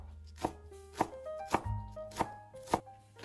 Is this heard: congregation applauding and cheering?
no